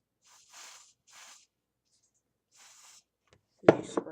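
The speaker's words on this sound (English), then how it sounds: "you spray it." A can of flammable aerosol spray, such as perfume or cologne, hisses out in three short bursts with brief pauses between them, followed by a sudden louder sound as a voice begins at the end.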